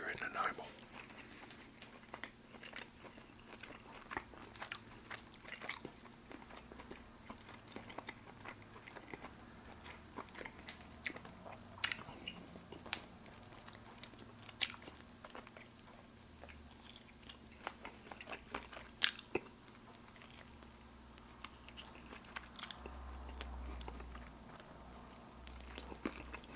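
Close, quiet biting and chewing on a Nanaimo bar in a whispered ASMR eating session, with soft crunchy mouth sounds and small clicks scattered steadily through a low background hum.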